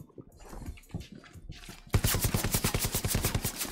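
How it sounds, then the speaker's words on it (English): Gunshots in a video game: after a quiet stretch, a fast, evenly spaced string of loud shots starts midway and keeps up steadily to the end. "I heard shots north, I thought."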